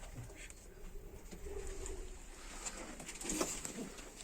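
Hünkari pigeons coo softly in a loft, a low murmuring chorus of several birds fairly close, steady throughout with a slightly louder burst near the end.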